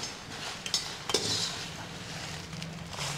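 Byadagi chillies tipped into a pan for dry roasting, soft rustling and scraping with a few light metallic clinks, quiet and close, no talking.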